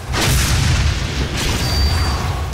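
A heavy cannon weapon booms in the Doom video game, a loud, dense blast that swells at once and rumbles on for more than two seconds, with a second surge partway through and no speech.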